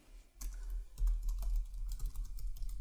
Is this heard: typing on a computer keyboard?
yes